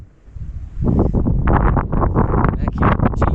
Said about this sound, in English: Windy as hell out here, though.